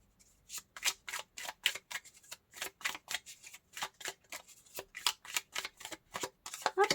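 Tarot cards are shuffled and drawn in rapid, crisp riffling snaps, a dense run of close, fairly quiet flicks with no talking.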